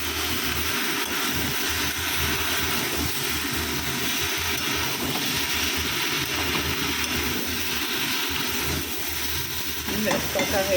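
Onion with garlic and ginger paste is stir-fried in a pan, giving a steady, close sizzle with scraping stir strokes for about eleven seconds.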